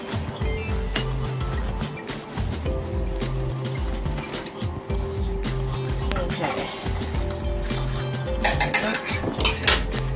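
A spoon clinks and scrapes against a bowl while biscuit dough with black pepper is stirred, with soft repeated knocks over a steady background murmur and brighter clatters near the end.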